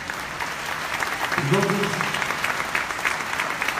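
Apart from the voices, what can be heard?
audience applause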